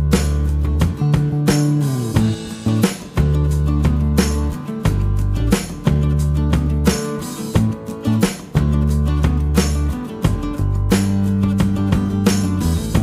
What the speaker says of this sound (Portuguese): Agora vamos passar aqui no liquidificador.